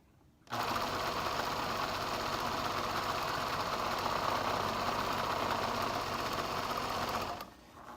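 A sewing machine runs steadily for about seven seconds while stitching fabric for children's reversible pants, a close, even whirring hum that starts abruptly and then winds down.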